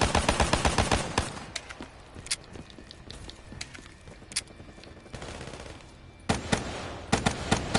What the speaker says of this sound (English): it's shooting so fast when you got akimbo on and rapid fire for your normal weapon